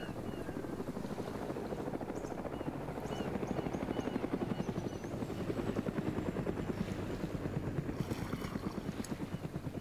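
Video game helicopter with a continuous thudding rotor beat, loud and near, swelling slightly midway and staying steady throughout without any talk.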